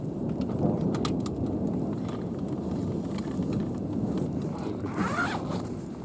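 Rain falls steadily with a dense patter while thunder rolls low and continuous in the distance, with a brief crackle of sharper noise near the end.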